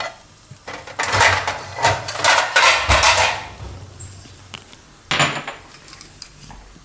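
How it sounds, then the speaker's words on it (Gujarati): Whole black peppercorns with split mustard seeds, split coriander seeds and fennel are pounded coarsely, making clustered bursts of dull, hard knocks and grinding thuds up close, with a pause before a final shorter burst. "થોડાક અધકચરા વાટી નાખીએ ને તો આ રીતે એને વાટી લેવું અધકચરા."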